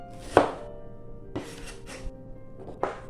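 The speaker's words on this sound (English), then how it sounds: "Cut the ginger into thin slices." Knife slicing fresh ginger into thin slices on a cutting board, four crisp separate chops with short pauses between, close and clear with no voices.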